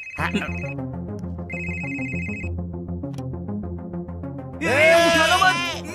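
An electronic telephone ring sounds in short bursts over steady background music, followed by a loud, wavering voice-like burst near the end.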